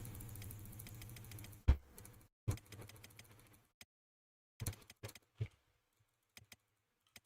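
Keyboard keys and a mouse click on a PC, first in a brief run of dense typing, then scattered single clicks and short bursts separated by silent gaps, close but fairly quiet.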